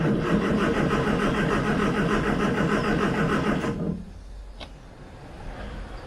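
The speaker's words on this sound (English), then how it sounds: "First start attempt. Ignition on, choke out." A Morris Minor engine, ignition on and choke out, on its first start attempt after restoration: dense steady cranking or churning runs loud for about four seconds, then cuts off and leaves a quiet background with one brief faint click.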